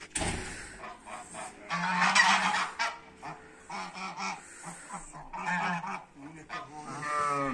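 Geese honk loudly and repeatedly in a noisy flock on a village farm, calls overlapping in bursts, close by, with a few faint voices mixed in.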